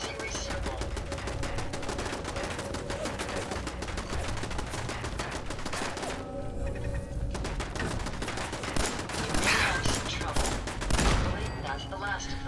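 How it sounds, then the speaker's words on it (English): Dense, rapid gunfire from the video game Fallout 4, including pistol shots, fills the whole stretch as a loud, continuous rattle of overlapping reports, with a brief lull midway before the shooting resumes. "I'm only using a pistol right now because it's, close quarters kind of thing."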